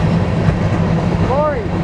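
Continuous close rumble and rail clatter come from a long eastbound BNSF double grain train behind engine 5782 in Spokane Valley, Washington, with a short burst of excited speech near the end.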